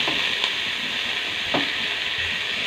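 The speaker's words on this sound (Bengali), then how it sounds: "কড়াটার মধ্যে আলুগুলো দিয়ে দিলাম।" Potatoes fry in a hot kadai, making a steady, dense hiss that stays even throughout, with a couple of faint clinks from stirring.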